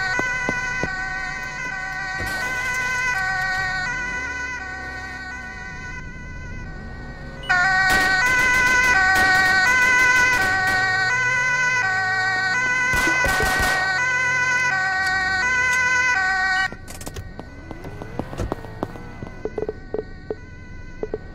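An ambulance siren in the Roblox video game wails with a steady repeating tone that swells louder midway, then gives way to scattered clicks and game sounds near the end, with no talking.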